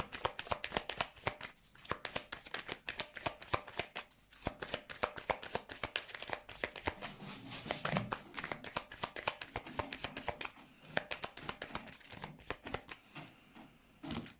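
Tarot cards are shuffled by hand in a long run of rapid, crisp flicking and riffling clatters, close and fairly quiet, with no talk.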